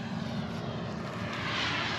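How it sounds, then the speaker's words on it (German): A drone flying over a farm during the barley harvest, giving a steady, even buzzing hum that holds at constant loudness for about two seconds with no voices. "Da sitzt der Tim und fliegt ein bisschen Drohne."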